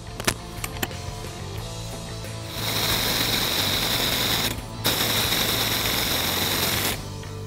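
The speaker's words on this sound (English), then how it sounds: "Put the compressor onto our coil spring." A rented spring compressor tool tightens down on a Ford Mustang coil spring during a lowering-spring install, giving two steady, close mechanical whirring runs of a few seconds each with a short pause between.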